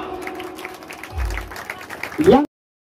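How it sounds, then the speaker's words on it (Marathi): An audience at a village deity festival in Konkan, held for paddy planting and ploughing, claps after a lamp-lighting ceremony. The steady applause runs under speech and stops abruptly. "टाळ्या."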